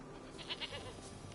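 Goat bleating in a PS4 video game: two short, faint bleats close together over a steady background hum, with no talking.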